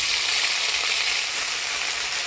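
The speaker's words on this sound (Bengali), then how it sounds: "বাটা মশলাটা ভালো করে কষিয়ে নিলাম" Ground spice paste of ginger, chili and onion with black cumin, turmeric and salt sizzles steadily in hot oil for a mustard tilapia curry, a continuous close frying hiss with no talk.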